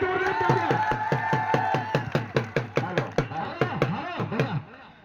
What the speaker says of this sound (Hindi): ये ताली है